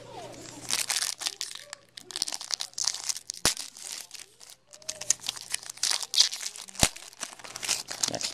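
A 2010 Classics football trading card pack wrapper is crinkled and torn open close up, with irregular crackling bursts and a few sharp snaps, and a person speaks over it.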